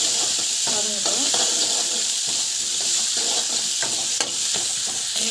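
Greens sauté with salt and asafoetida in a hot pan, a steady loud sizzle with hiss and steam running throughout, broken by scraping stirs of a spatula. No one speaks.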